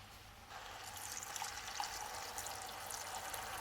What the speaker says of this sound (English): Immerse it in enough water to embrace its entirety.